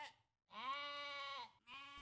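A sheep in a pen bleats twice, a long wavering bleat followed by a shorter one after a brief pause, soft and close.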